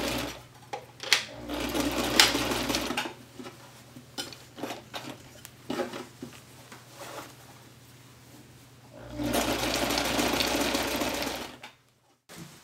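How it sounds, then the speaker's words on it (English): A sewing machine runs stitch lines around the top of a drawstring backpack, sewing 1.5 inches below the edge in several bursts of fast, steady whirring, with a long loud run near the end, separated by pauses and small handling clicks. "sew another line of stitches all the way around"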